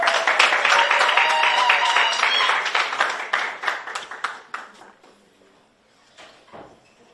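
A Rotary Club of Rubaga gathering applauds the installation of its 34th president: brisk, close clapping that is strongest at first, then thins into scattered claps and fades out after about five seconds.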